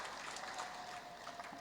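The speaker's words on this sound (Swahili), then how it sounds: "Naomba tuwapigie makofi mengi sana tafadhali." An audience at a formal agreement-signing ceremony gives a brief burst of steady applause for the signing delegates, a short, even wash of many clapping hands.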